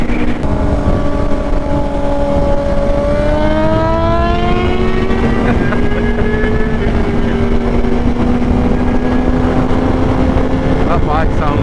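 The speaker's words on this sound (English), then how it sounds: "That bike sounds nuts." A motorcycle engine roars loudly and steadily during a ride on a hot day, with its pitch climbing and settling as it shifts through gears. Wind noise runs continuously underneath.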